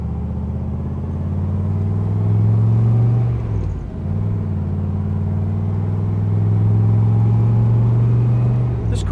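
A classic car with an original factory side exhaust, fitted with power steering and power brakes, drives past with a steady, loud low rumble. There is a brief dip and a small rise in revs midway, and the sound stays close throughout.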